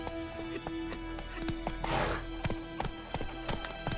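Roach the horse trotting in The Witcher 3, steady clip-clop hoofbeats in an even rhythm over a low ambient background, with a brief breathy whoosh midway and no talk.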